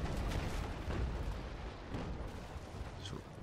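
Ship cannons fire during a sailing-ship battle in the naval game Naval Action. Low, rumbling booms roll over a dense, steady background roar, with a few softer thuds spaced through it.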